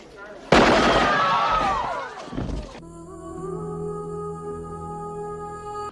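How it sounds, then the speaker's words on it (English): Gunfire from a scene in the film Total Recall, a sudden loud burst of shots and crashing that decays over about two seconds, then gives way to a low sustained musical drone. "Michael Ironside and the science police start shooting up the place"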